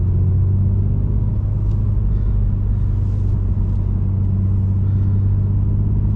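A 2020 BMW M2 Competition with a manual gearbox driving on the road, a loud steady low engine drone and rumble that holds constant throughout from inside the cabin, with no voices.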